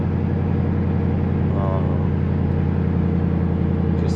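Ford Crown Victoria with a swapped 7.3L Godzilla V8 driving on the street, a loud, steady, droning engine rumble heard from inside the car.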